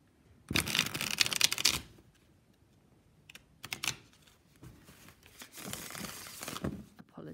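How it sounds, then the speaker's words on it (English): Crisp riffle shuffles of a tarot card deck, a long fluttering burst followed by a few shorter riffles and soft card handling, close and fairly quiet. "that riffles nicely, shuffles nicely"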